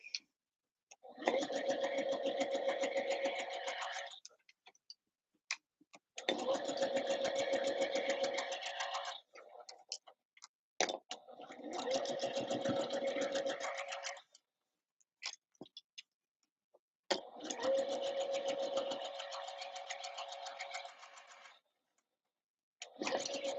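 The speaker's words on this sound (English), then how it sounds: "Start sewing these up again. Sewing the front pieces to the back." Sewing machine stitching the front pieces of a Christmas dress to the back, running in four long steady bursts of rapid needle chatter with short pauses between, close and clear with no talking.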